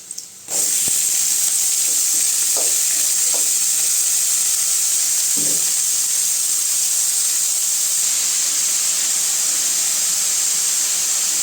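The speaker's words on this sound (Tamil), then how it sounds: "வெங்காயம் நல்லா வதங்கிடுச்சுங்க இப்போ பீட்ரூட் சேர்த்துக்கலாம்" Onions and beetroot sauté in a pan under a loud, steady steamy hiss, with a few soft stirring knocks early on and otherwise an unbroken sizzle.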